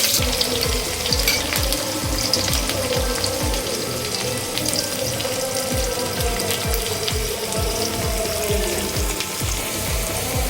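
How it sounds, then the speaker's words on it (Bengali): Chopped onions, four medium ones, hitting hot oil in a pan for a Bengali raw mango chicken curry, a steady loud sizzle and hiss with rapid rhythmic scraping from stirring throughout. "আমি 4টে মিডিয়াম সাইজের পেঁয়াজ কুচি করে কেটে নিয়েছি, সেটা দিয়ে দিচ্ছি।"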